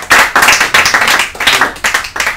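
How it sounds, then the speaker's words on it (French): Audience clapping for a guest author at a book talk and signing event, a steady burst of close, bright handclaps with rhythmic surges, filling the whole moment with no talk over it. "je t'applaudis parce que"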